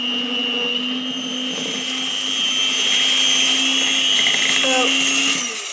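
An electric mixer whirs steadily while beating Moroccan biscuit dough, a loud close motor whine holding a constant pitch with a brief shift near the end.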